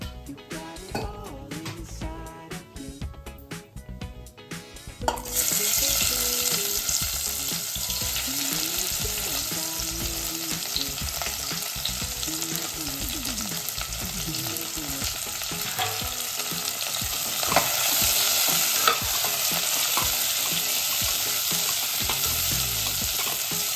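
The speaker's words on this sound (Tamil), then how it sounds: "இந்த அளவுக்கு பலாப்பழம் வதங்கினா போதும்" Jackfruit sautés in ghee in a pan. A few seconds of stirring clatter give way to a steady, loud, close sizzle that continues with occasional scraping.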